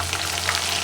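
Onions already well fried sizzle steadily in hot oil as garlic paste goes into the pan, a close, even frying hiss with no voices.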